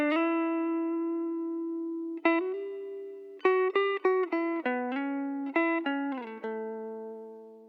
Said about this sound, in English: First, I want to listen to the guitar track without the pedals active.